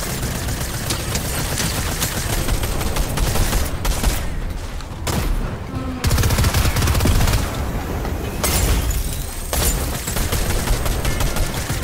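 Gunfire in the Fortnite video game (Chapter 3 Season 4), a dense, continuous barrage of shots and bursts across a loud battle mix with brief dips, no talking.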